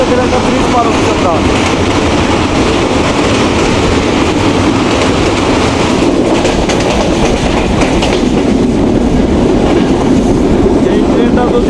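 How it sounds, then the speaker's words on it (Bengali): A nonstop Banalata Express train crosses a bridge over the Chalan Beel wetlands, a loud steady roar with rapid wheel clatter and a hollow rumble, heard from on board with no talk. "একটা ব্রিজ পার হচ্ছে আমরা।"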